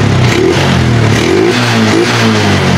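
A Honda XRM125 motorcycle engine, running rough with a misfire, revs loud and close with a steady throbbing drone that rises and falls slightly across the few seconds.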